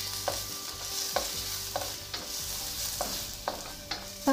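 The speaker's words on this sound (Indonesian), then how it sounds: "setelah minyak panas, tumis bawang putih dan jahe" Garlic and ginger sauté in hot oil, with a steady sizzle under repeated scraping strokes of a spatula stirring the pan, close and fairly quiet.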